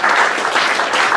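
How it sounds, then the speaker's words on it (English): Steady, loud applause from the audience at a Croydon community group's annual general meeting, a thick wash of many hands clapping continuously without talk. "all of you deserve a huge round of applause"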